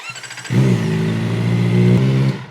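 A Kawasaki ZX-4RR motorcycle engine idles close by with a steady throbbing rumble, briefly revving before it cuts off, after an oil change.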